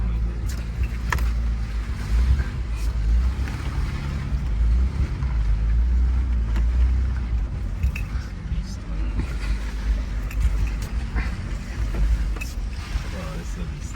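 A Land Cruiser 80 off-roading through wet-season mud in Nairobi National Park, getting bogged, gives a steady low engine rumble with creaking body and suspension noises and clunks throughout.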